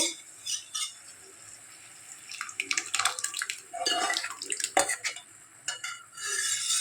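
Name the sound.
boiled mixed dal poured into melted butter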